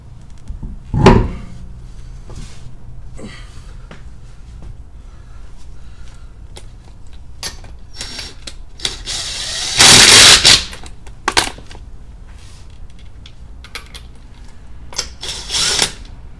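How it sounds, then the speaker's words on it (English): An impact gun drives lug nuts onto a front wheel of an Infiniti Q50 during a brake change, with a loud rattling burst midway among scattered clicks and clanks of the work. "I always load up my impact gun with the first lug nut"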